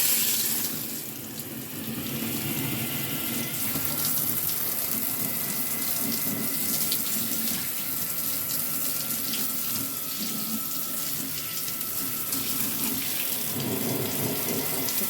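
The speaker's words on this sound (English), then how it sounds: "I'm going to go ahead and turn on the shower." A shower runs steadily, spraying water over box fan front grids that have been soaking, a continuous close hiss of running water with no talking.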